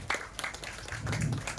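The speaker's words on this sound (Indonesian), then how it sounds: "Tepuk tangan untuk beliau." Audience applause at a community Qurban gathering in Brunei, a short burst of scattered clapping that rises and thickens toward the end, fairly close and moderately loud.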